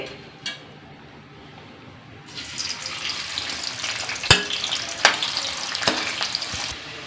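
Cooking oil heats in a pan on a stove for chicken curry, starting quiet with a faint click before a bright, steady sizzle rises and continues, punctuated by a few sharp metallic taps.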